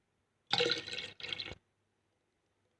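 Water poured from a glass into a container, a single steady splashing pour of about a second, a brief pause, then a shorter second pour, close and clear, followed by near silence.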